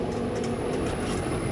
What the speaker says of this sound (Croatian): Micao je ručke na lijevoj i desnoj strani i deng! Tramvaj krene niz ulicu.